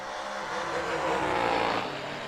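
A drag race car launches hard down the strip at a Mini-Million drag racing event, its engine roaring loud and rising as it pulls a wheelie.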